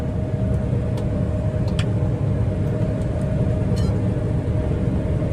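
Steady, even drone of a Fendt Ideal T8 combine harvester driving across a field, a constant low engine rumble with a faint whine and a few light clicks on top, no voices.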